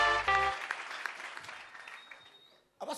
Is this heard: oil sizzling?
no